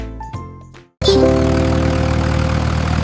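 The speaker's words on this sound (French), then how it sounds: "Le rugissement du petit tracteur était fort." A small engine starts up abruptly after a brief pause and runs with a steady, loud mid-pitched rumble and a few tonal whines.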